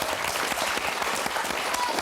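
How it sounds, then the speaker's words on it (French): Studio audience on the French game show Motus claps steadily and enthusiastically during the tournament final, a brief, even burst of applause with no speech. "Des applaudissements pour encourager Mathieu, Sarina, Rachid, Saïd"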